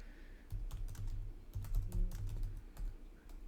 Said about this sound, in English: I'm just typing in one here.